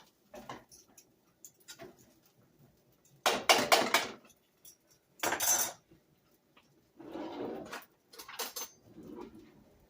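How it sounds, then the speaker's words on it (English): A spoon stirring rice in a cooking pot for a soul food dinner, with several separate bursts of metallic scraping and clinking against the pot, loud and close amid quieter gaps. "let's stir the rice, guys"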